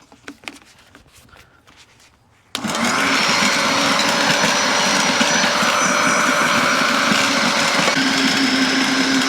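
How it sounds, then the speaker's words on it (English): Garden tiller churning soil and old landscape fabric, quiet at first and then loud and close, its engine roaring steadily and continuously. "Probably been a couple years since I've tilled this up, at least."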